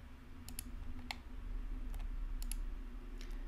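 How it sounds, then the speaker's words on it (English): Computer mouse clicks from control-clicking to select edges in 3D modelling software, a handful of sharp, light clicks spaced irregularly over a steady low hum. "just going, control clicking around to get all of the edges that I want"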